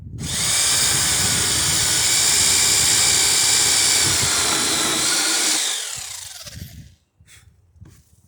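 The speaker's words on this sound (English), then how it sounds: "we're going to drill it down far enough where we've got room to put on a washer" A loud, close power drill whines steadily for several seconds while boring through the wood of a dory's centerboard, then winds down and stops, followed by a few faint knocks.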